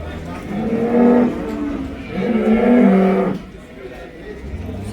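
Cows bellow twice in quick succession at the Karabulak livestock bazaar, two loud sustained moos close by, over a low background of market noise before the calls fade.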